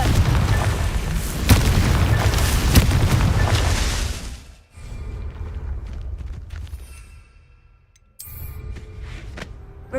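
Fire spell explosion in the Hogwarts Legacy video game: a loud, heavy boom with a rumbling roar lasting about four seconds, then dying into quieter debris and crackle, with a brief cut of silence before softer ambience resumes.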